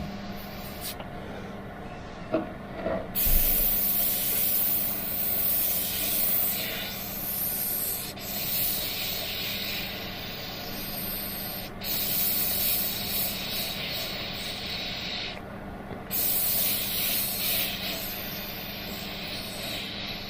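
A steady airbrush hiss sprays paint while a stone-texture skull is being finished, close up and continuous, with small rubbing noises and short pauses where the flow cuts off.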